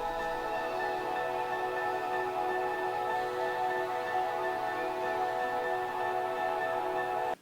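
Dense atmospheric samples and sustained pad-like tones are layered with piano into a steady, even ambient bed at moderate level, with no voices.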